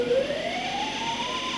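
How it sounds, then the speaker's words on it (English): A piercing alarm siren sounds in a nuclear plant control room during an emergency, a single steady wailing tone that rises slowly in pitch over a dull background rumble. "accompanied by piercing horns and sirens"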